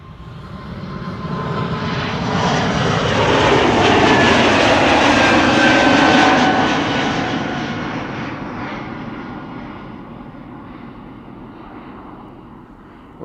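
Embraer E2 jet taking off and climbing out at Amsterdam Schiphol, a broad roar that swells to a loud peak and then fades as it recedes into the distance.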